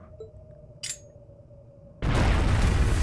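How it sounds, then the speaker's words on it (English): A bomb detonates in the role-playing game Trails of Cold Steel: after quiet ambience and a small chime, a sudden loud blast erupts and roars on as a sustained, wide rumble. "What? A bomb?"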